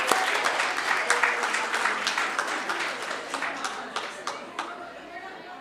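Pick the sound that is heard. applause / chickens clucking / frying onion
applause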